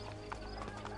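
Faint, rapid clip-clop of a horse's hooves in the video game Assassin's Creed Brotherhood, rhythmic and low in level under a background music bed.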